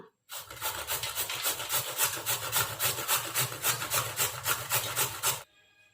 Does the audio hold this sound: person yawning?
no